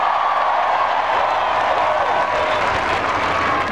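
Crowd applause at a presidential campaign rally in Hollywood, Florida, a steady dense wash of clapping and cheering that stays loud and even throughout with no speech over it.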